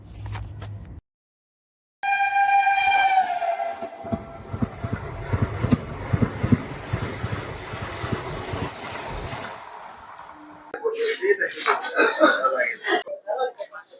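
A train horn blares, then a heavy Vande Bharat Express train rumbles and clatters past up close for several seconds; voices talk at the end.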